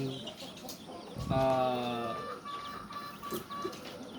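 Several chickens cluck and squawk close by in a coop of 200 young chicks after a flood, with one louder drawn-out call in the middle amid a busy background of birds.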